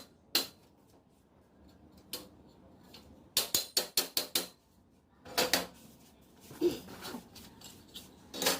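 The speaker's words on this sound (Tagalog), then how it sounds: "kumuha muna ako ng martilyo, pamukpok dyan" Hammer pounding while assembling a shelf unit, heard as scattered sharp knocks, then a quick burst of about six blows, then a few more strikes with pauses between them, close and fairly loud.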